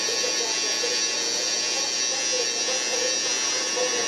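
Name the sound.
electric hair clippers trimming hair for a low taper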